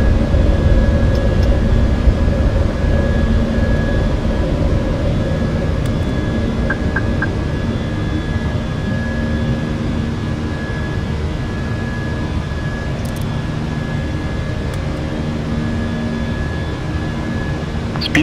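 British Airways A319 jet engines roar steadily while climbing after takeoff from Berlin in Microsoft Flight Simulator, a loud, constant broadband rumble with a faint tonal whine, no talk.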